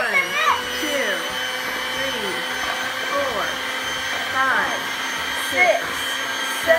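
Electric mixer running in a bowl of chocolate chip cookie dough, a steady whirring motor hum that continues throughout, with people talking and counting over it.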